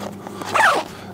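A single quick zip as the zipper on a Mystery Ranch backpack pocket is pulled closed, brief and close by.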